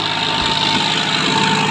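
A 41 hp tractor engine pulls a 16-disc harrow, giving a steady, loud, low diesel drone with an even mechanical hum and no voices.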